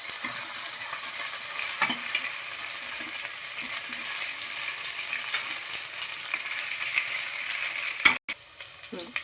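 Ginger garlic paste sizzles and fries in a pan while a utensil stirs it, a soft steady crackle with occasional scraping taps, heard alone without talk.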